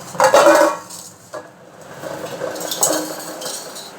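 Stirring and clinking of dishes and a spoon in a home kitchen while coffee is made, with a loud clatter early on and then softer scraping and tapping, no talking.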